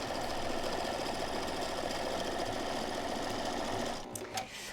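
A sewing machine runs steadily, stitching pinned quilt rows made from baby clothes right sides together, a loud close motor hum with rapid needle chatter that stops near the end, followed by a few small clicks.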